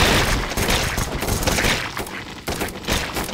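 Dense, continuous gunfire rattles loudly in the video game Run! Zombie Foods, a relentless barrage of overlapping shots with no pauses.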